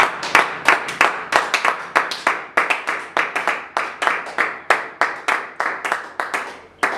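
A church congregation claps in a fast, even rhythm. The sharp, loud hand claps repeat steadily at close range, with no talking over them.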